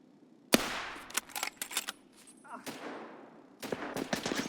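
Gunfire in the video game Escape from Tarkov: a sharp shot followed by a quick cluster of rapid reports, a pause, then another burst of several shots near the end, close and loud, with voices faint in between.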